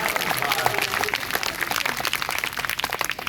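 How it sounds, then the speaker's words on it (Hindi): An audience at a devotional gathering claps and applauds for God, a dense, continuous patter of many hands at close range that lasts throughout, with some voices mixed in. "एक बार अच्छा सीधे सीधे हाथ उठाओ और भगवान के लिए जोरदार ताली बजाओ।"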